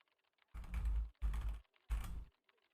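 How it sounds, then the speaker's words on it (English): Three distinct bursts of keyboard tapping from Broken Sword: The Smoking Mirror, each a dense clatter of keys lasting about half a second, separated by brief silences over faint background music. "I like the keyboard tapping."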